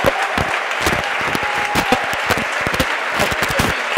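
Boxing crowd applauds a championship win, loud close clapping with sharp individual claps standing out over a noisy arena roar.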